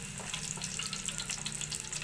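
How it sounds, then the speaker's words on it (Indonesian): Garlic sautéing in hot oil in a pan for a stir-fried bitter melon and anchovy dish, giving a steady, close, crackling sizzle with no talk. "Bawang putih saya tumis dulu."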